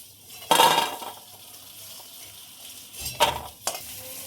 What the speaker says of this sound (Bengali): ওই তেলের মধ্যে বড়িগুলো ভেজে নেব, ভাজার জন্য খুব ভালোভাবে নেড়ে দেবো।